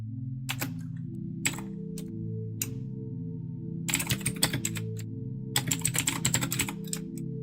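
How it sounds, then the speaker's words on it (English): Computer keyboard typing comes in short bursts of fast, close key clicks separated by pauses, over a steady low electrical hum. "I don't know if you guys can hear my keyboard tapping away"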